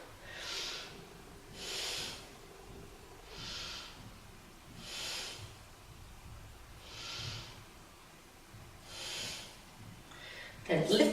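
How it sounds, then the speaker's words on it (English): Slow, deep breathing during a yoga pose, with six or so long airy breaths evenly spaced and close to the microphone, then a brief louder rustle at the end. "Let's take 3 breaths here."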